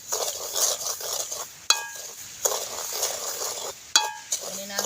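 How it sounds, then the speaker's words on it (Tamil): Semolina roasts dry in a pan while a metal spoon stirs it, giving repeated scraping sweeps broken by sharp clinks against the pan's side at a steady rhythm. "இங்கே பாருங்க, ரவ்வை வறுபட்டுது."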